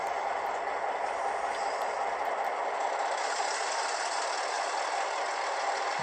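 Model railroad train pulling a string of cars through a layout yard, a steady, continuous rolling rumble and rattle at moderate distance with no talk over it.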